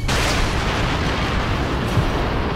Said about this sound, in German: Was war das gerade für eine kleine Explosion?